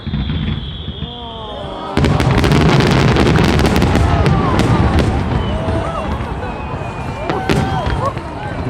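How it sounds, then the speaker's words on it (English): Fireworks bursting at the Japan Day festival in Düsseldorf, Germany, with a dense run of sharp cracks and booms from about two seconds on, under crowd noise and whistling rockets. "those fireworks were awesome"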